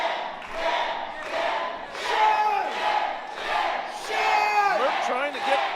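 A wrestling crowd roars and chants in rising and falling waves at a live match, loud and close, with individual shouts standing out above the swelling noise.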